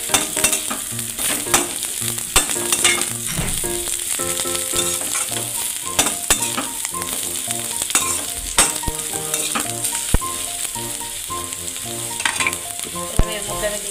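Steady frying sizzle with repeated stirring scrapes as cashews cook in the pan for an egg malai curry, continuous and close, with no talking.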